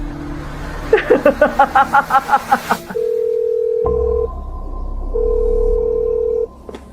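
Rapid phone keypad dialing tones, then a long steady ringback tone repeating twice with a pause, the line ringing with no one picking up.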